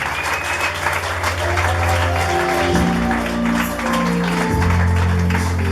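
A church congregation claps in praise of God, the broad applause running steadily under sustained organ or keyboard chords, with the clapping blending into the music.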